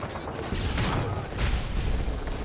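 An XM25 grenade launcher fires in Modern Warfare 3, with dense, loud gunfire and bursts crowding the short stretch, which is dominated by combat noise.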